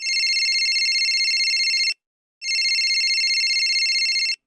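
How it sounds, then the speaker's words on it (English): A mobile phone ringing: a bright electronic ringtone with a steady buzzing pulse, loud and close, playing for about two seconds, stopping briefly, then sounding again, alone with no talk. "Suddenly, my phone rang."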